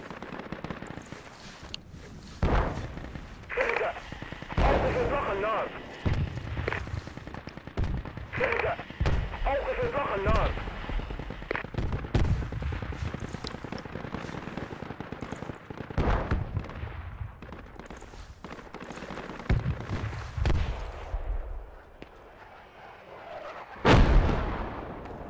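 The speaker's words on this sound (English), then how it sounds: "These are good rockets, Gabriel." Rockets firing and exploding in a video game, a dense run of booming blasts and sharp bangs, loud and close, with a voice talking over the action.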